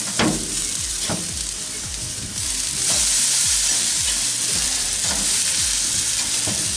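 Burger patties being flipped inside a Masterbuilt propane smoker, a loud continuous sizzle with a series of metallic scrapes and taps from the spatula, close and busy, no talking.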